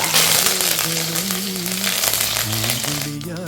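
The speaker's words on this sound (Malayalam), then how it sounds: "കടുക് പൊട്ടി വന്നപ്പോ ഉലുവയിട്ട് കറിവേപ്പില ഇടാ" Loud, dense sizzling and popping of mustard seeds, fenugreek and curry leaves hitting hot oil, continuous crackle with a faint voice underneath.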